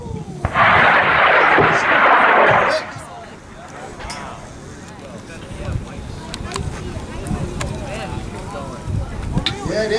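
A high power rocket launches on a certification flight, with a loud roaring whoosh for about two seconds that fades into wind and distant rumble. People talk and cheer afterward.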